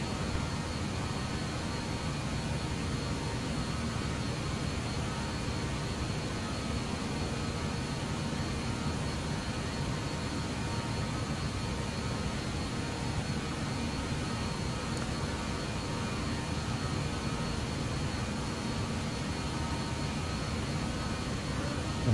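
BAE-146 jet engines on a takeoff run in a flight simulator, a steady, even whine and broadband roar holding at constant level throughout with no talk over it.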